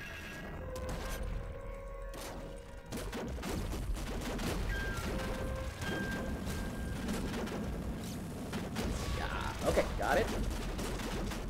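Dense bursts of plasma cannon fire in the video game Nuclear Throne, continuous and loud, with a brief spoken remark partway through.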